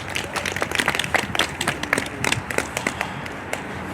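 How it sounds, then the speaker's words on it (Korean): A crowd at an outdoor Taegukgi rally in Vancouver applauds to welcome a pastor to the stage, brisk, uneven clapping with distinct individual claps standing out. "우리 다 함께 박수로 환영해 주시겠습니다."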